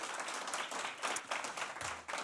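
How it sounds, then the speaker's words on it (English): Applause from a festival audience at a SXSW event, a steady broadband patter of many hands that stays fairly faint and distant, with no one speaking over it. "Claudia Schwartz, big applause."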